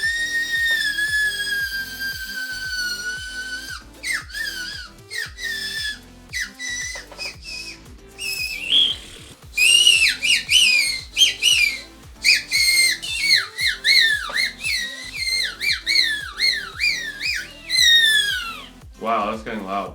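Swiss warbler bird whistles played by mouth give bright, warbling chirps and trills in quick bursts, wavering in pitch and growing louder and busier as they go on, close and alone.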